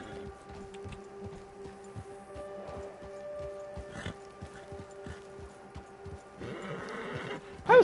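In Red Dead Redemption 2, a horse clip-clops softly at a walk with a rhythmic hoof pattern, then lets out a short, louder whinny near the end.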